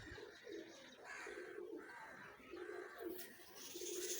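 Pigeons coo in soft repeated throaty phrases, several birds close by, with a faint flutter of wings near the end.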